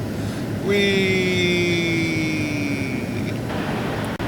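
An F-8 Crusader jet flies low over the deck in the FSX flight simulator, a loud steady engine roar with a whining tone that slowly drops in pitch as it passes, continuous and close.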